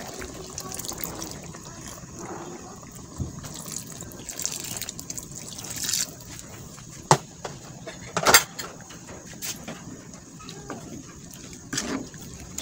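First coconut milk (gata) splashing and trickling into a cooking pot, a quiet liquid pour with a few louder gushes and clinks against a faint background.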